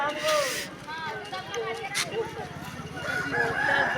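Roosters crow one after another in a dense forest setting near a temple, clear and fairly close, their drawn-out calls overlapping with background chatter.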